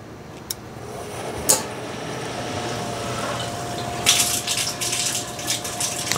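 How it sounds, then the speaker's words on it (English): Water purging through a Manitowoc Indigo ice machine, a steady low rush of flowing liquid with a faint hum, punctuated by a couple of sharp clicks and a louder splashing burst near the end; no one talks. "We're back in that water purge. Again, guys, this is a 45-second purge."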